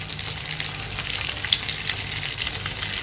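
Egg frying in oil with green chillies and curry leaves: a dense, steady sizzle with fine crackling spatters, close and continuous, no voices.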